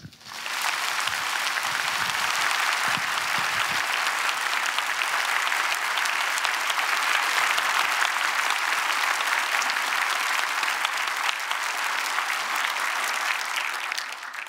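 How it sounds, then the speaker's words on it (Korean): Church congregation at a dedication service giving warm, sustained applause, a dense continuous wash of clapping lasting the whole stretch and swelling slightly before easing off. "최대한 뜨거운 박수로 모시겠습니다"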